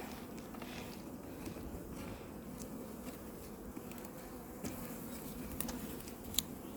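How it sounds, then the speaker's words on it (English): Bees buzzing softly around hives at a woodland apiary, a faint steady drone with scattered close fly-bys and light ticks. "Beautiful bees."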